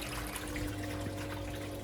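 Water running steadily inside a Miele Novotronic washing machine during the first rinse cycle after repairs, a constant trickling wash with a low mechanical hum underneath, no talking.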